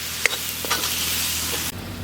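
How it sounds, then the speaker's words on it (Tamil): Spices sizzling with eggplant in hot oil for a dried salted meat curry, a steady close frying hiss with a few soft clicks of stirring, heard alone. "இது எல்லாம் இந்த கத்திரிக்காயோட இந்த எண்ணெயிலே லைட்டாக ஃப்ரை பண்ணிக்கலாம்"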